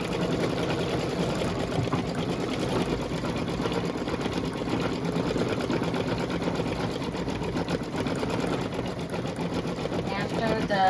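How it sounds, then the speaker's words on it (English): An embroidery machine runs continuously as it stitches the dispenser chute of a Valentine's design in black thread, a loud, steady mechanical whir that does not let up. "it's going to stitch the dispenser chute"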